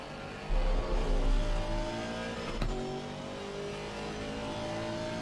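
A race car engine in a racing video game at the Misano circuit revs up sharply, then holds a steady, mid-loud drone as the car speeds along.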